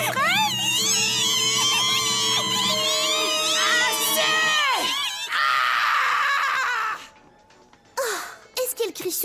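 A girl in an animated teen comedy screams long and shrill, the piercing wail running for several seconds, then breaking into shorter gasping cries as other voices talk around her.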